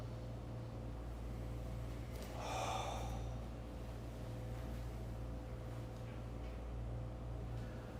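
A single breath drawn in during a kundalini yoga pose, a soft airy inhale that swells and fades over about a second against a steady low room hum.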